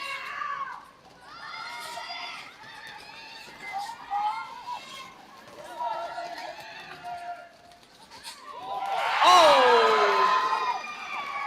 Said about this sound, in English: Raucous cheers from the crowd.